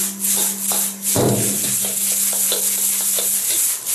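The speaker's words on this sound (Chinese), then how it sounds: "翻炒均匀即可。" Cooked rice with chopped scallions stir-fried in a wok over high heat, a loud, continuous close-up sizzle with rhythmic scraping and tossing of the spatula, and a steady burner hum underneath for most of it.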